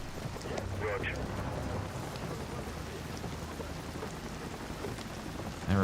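Steady rain in a video game scene, a dense continuous hiss of falling drops with a low rumble like distant thunder, running under voices throughout.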